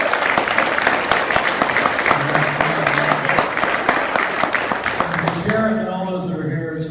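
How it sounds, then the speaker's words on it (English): Audience applause at a presidential campaign event at a fireside gathering in Holstein, Iowa, steady dense clapping from a crowd throughout, with some voices mixed in and a few tonal sounds near the end. "Give Vera another round of applause."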